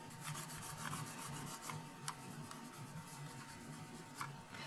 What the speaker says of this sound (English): I'm going to use this to wipe off the bottom of the mouse.